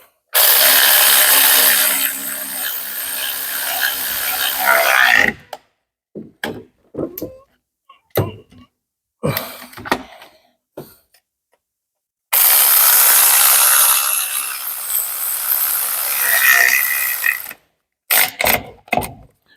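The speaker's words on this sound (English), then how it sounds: "I can use it as a ratchet" A powered ratchet works on gearbox bolts during a clutch replacement on a Vauxhall Opel Corsa B GSi, with two long, loud whirring runs separated by a stretch of short clicks and knocks.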